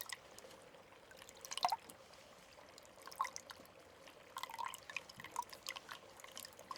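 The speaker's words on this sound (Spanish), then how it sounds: "empaparé un algodoncito con agua, un algodón de tela especial para su rostro" Water drips and trickles softly as a cotton pad is soaked for face care during an attentive personal-care session, with small irregular drops and splashes, quiet and close.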